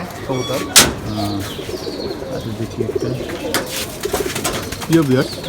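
Indian Saharanpuri Kaldam pigeons coo in repeated soft throaty phrases close by, with a sharp knock and some rustling among them.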